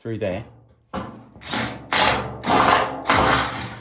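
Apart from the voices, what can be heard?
drilling holes with a drill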